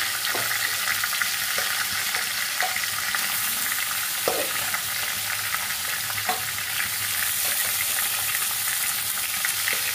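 Green jackfruit fries in a pan with a dense, continuous sizzle, broken by a few scraping stirs of a spatula. The sound stays close and fairly loud throughout, with no talking.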